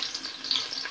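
Garlic sizzling in hot sunflower oil, a short steady hiss of frying with faint crackles, close and fairly quiet, no voices.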